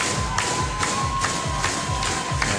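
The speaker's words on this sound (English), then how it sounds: "And this crowd is just pumping." An indoor crowd at a CrossFit Open event cheers and shouts without a break, while a heavy, rhythmic low thumping pulses beneath it roughly twice a second and a faint steady tone hums through the whole stretch.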